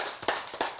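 A few claps ring out at a church lecture, two short sharp bursts of hand clapping close by with quiet room tone between them.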